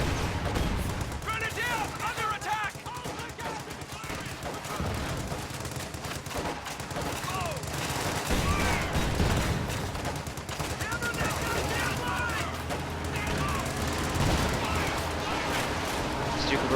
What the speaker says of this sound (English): Barrage coming in on allied player that's already battered.